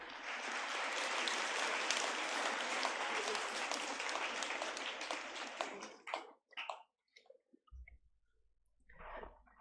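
Audience applause after a school performance of The Taming of the Shrew, a dense, steady burst of many hands clapping for about six seconds, then thinning to scattered claps and a few stray noises.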